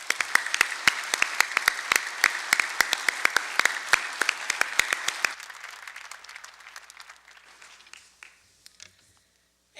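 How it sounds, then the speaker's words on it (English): Enthusiastic applause from a crowd at a fire and rescue service awards ceremony, dense and steady at first, then thinning out and fading to a few scattered claps. "Let's give a round of applause to these units for exemplary work."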